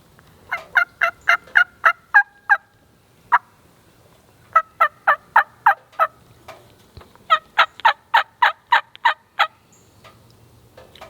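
A handheld turkey call imitates a hen with soft yelps, sounding in quick rhythmic runs of clear, close yelps separated by short pauses.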